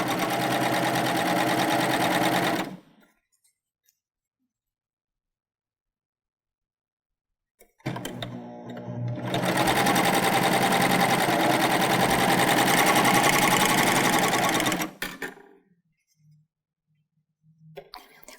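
A Baby Lock Euphoria sewing machine pieces fabric squares with a quarter-inch seam, running in loud, rapid, steady bursts: a short run, a silent pause, then a longer run of about seven seconds, with faint handling noises after.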